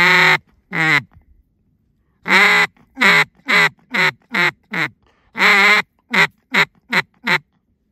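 Ducks quack loudly and close during a public land duck hunt in November, in a run of short harsh calls: a couple of single quacks, then two quick rhythmic series of five or six quacks each, with silent gaps between.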